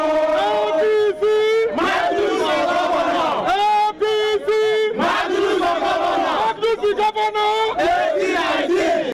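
Angry crowd of party supporters protesting at the APC secretariat in Nigeria, loud massed shouting and chanting voices rising in repeated surges with brief dips between them.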